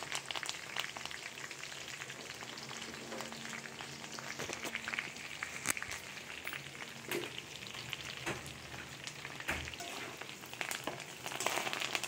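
Curry leaves and asafoetida crackling in hot oil for a tempering, a steady close sizzle with scattered sharp pops throughout, no talking.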